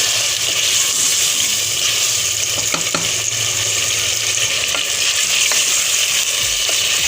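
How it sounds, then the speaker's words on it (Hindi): Masala and beef pieces for karahi frying in a pan, a steady loud sizzle with occasional scraping stir clicks throughout. "अब देखिए मसाला हमारा ये भून रहा है"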